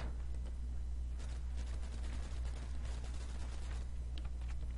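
Rapid bursts of gunfire from a Custom Zombies video game, with faint, busy shots rattling over a steady low electronic hum.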